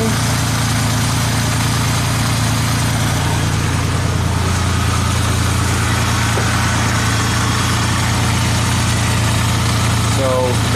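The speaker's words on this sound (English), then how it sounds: "Let's run the bike." A motorcycle engine runs steadily at idle nearby, a loud, constant low rumble with even vibration throughout and no voices.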